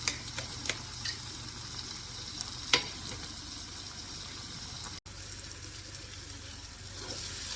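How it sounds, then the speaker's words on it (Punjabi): Peas, tomatoes and onions frying together in a pan for dhaba-style baingan bharta, a steady close sizzle with a few sharp clinks and scrapes of stirring, no voices. "ਹੁਣ ਮਟਰ ਤੇ ਟਮਾਟਰ ਪਿਆਜ਼ ਸਾਰਾ ਕੁਝ ਇੱਕ ਸਾਰ ਭੁੱਜ ਚੁੱਕਿਆ"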